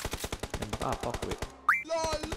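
Rapid automatic gunfire in a shooting video game, a steady run of sharp close shots at an even fast rhythm, ending with a brief whooshing effect and a ringing tone.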